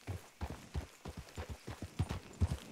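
Horse hooves clip-clopping in a western video game, a steady rhythm of close, moderately loud thuds at a walking pace, with no talk over them.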